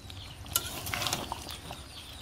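Chicken kosha being stirred in a pan over low heat, with a spoon scraping and clicking against the metal in short bursts over a soft background sizzle. No one speaks.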